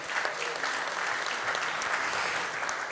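Sustained applause from a large audience at a conference on AI and cybersecurity, a dense, even wash of clapping that holds steady and fairly loud for the whole stretch.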